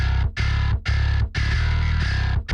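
Low-tuned synthesized bass from the Jin Bass VST plugin, playing heavy distorted sustained notes in a chugging rhythm with short gaps between phrases, loud and alone for a metal track.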